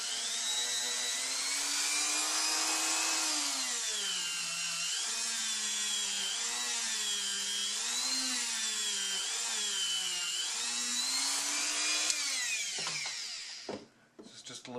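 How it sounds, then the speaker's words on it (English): A big black buffing wheel loaded with polishing compound works over Stratocaster guitar parts, a steady loud whirring drone whose pitch wavers as pressure shifts, continuous until it winds down abruptly near the end. "Polishing compound and a big black buffing wheel."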